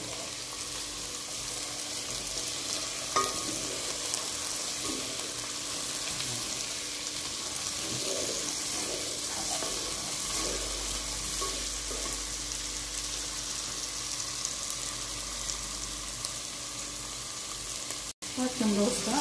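Green pepper and onions sizzle steadily in a pan for spinach soup, with a few scraping stirs in the middle and a constant close frying hiss throughout.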